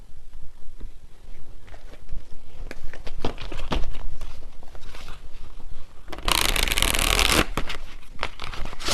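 Tarot cards are shuffled and handled in a series of crisp flicks and taps, with a loud, dense riffling burst near the end.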